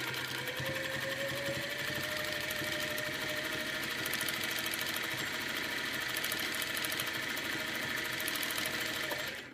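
Sewing machine running steadily through free-motion quilting while couching yarn onto fabric, a continuous close mechanical whir and rapid needle chatter that holds without a break, with no talking.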